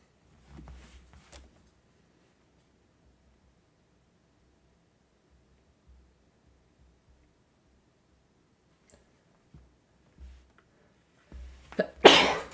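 A single loud, close human sneeze bursts out near the end after long near-silence broken only by faint rustles and small bumps; no talking.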